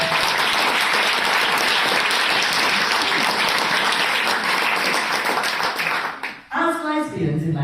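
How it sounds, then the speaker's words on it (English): Loud, sustained applause from a large crowd, steady for several seconds before fading out as a voice begins. "So a big round of applause."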